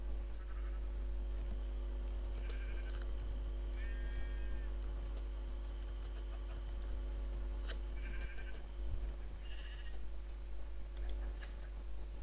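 Sheep bleat several times in the video game Minecraft, short nasal cries spread across the clip over a steady low hum and faint clicking.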